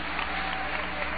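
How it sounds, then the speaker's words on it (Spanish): Church congregation claps together in worship, a brief, even burst of applause that sounds muffled and band-limited, with no voice standing out. "Dale un aplauso a ese Jesús"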